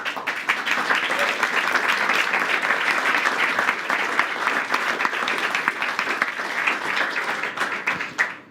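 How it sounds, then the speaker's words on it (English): Audience applause at a crypto industry conference after a panel on anonymity, steady dense clapping from a large crowd sustained for about eight seconds before tapering off at the end. "So you can applaud them if you want."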